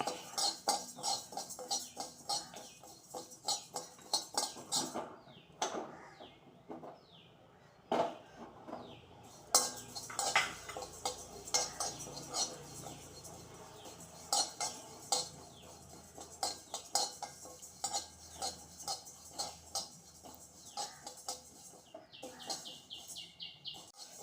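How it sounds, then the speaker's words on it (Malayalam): Sambar dal roasting in a pan while making sambar powder: a steady close rattle and scrape of dry lentils being stirred and tossed, with repeated sharp clinks of a utensil against the pan throughout. "അതൊന്ന് വറുത്ത് കൊടുക്കാം."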